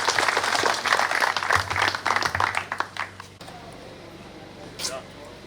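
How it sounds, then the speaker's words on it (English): Applause breaks out for a motorcycle rally award winner, dense clapping for about three seconds before cutting to quieter room noise with a brief higher sound near the end. "round of applause, please, for Greg Yager, TB."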